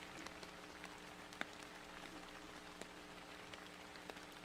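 Soft, steady rain sound effect playing quietly in the background of an anime, a faint continuous patter with a few louder drop ticks.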